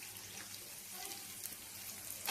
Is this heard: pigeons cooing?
no